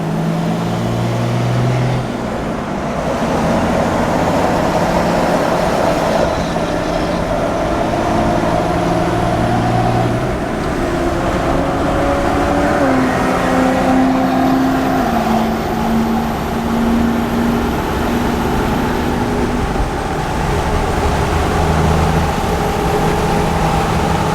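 A car on a test drive after a part replacement hums steadily from inside the cabin, a constant engine and road drone with slowly shifting pitch as speed changes, loud and unbroken throughout.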